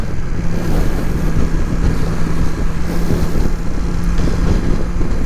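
A small Suzuki Intruder cruiser motorcycle without an aftermarket pipe, ridden on the road: a steady low engine drone buried under loud, constant wind rush buffeting the microphone, with no one speaking.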